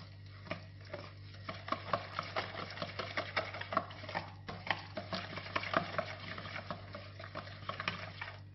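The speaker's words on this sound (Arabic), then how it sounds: "نخلط جيدا" Coca pastry dough ingredients being mixed by hand in a bowl, giving soft irregular stirring and scraping sounds over a steady low hum, with no one talking.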